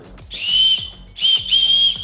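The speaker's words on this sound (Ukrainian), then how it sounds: "Ну, до, до речі, голосно дуже свистить" A shrill whistle is blown three times in short bursts, the second brief and the last two close together, loud and near.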